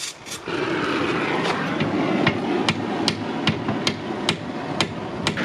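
Repeated sharp metallic hammer strikes on a crash-damaged side-by-side UTV frame and control arm ring out at an uneven pace, about a dozen blows over a steady background rumble.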